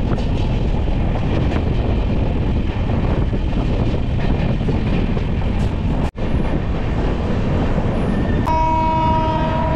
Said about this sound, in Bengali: অবশেষে ট্রেন ঢুকছে নদিয়া জেলার সদর শহর কৃষ্ণনগরে।